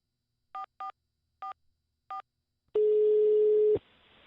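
Four short keypad tones beep at an uneven pace as a phone number is dialed, followed by a single longer steady tone, then faint background hiss.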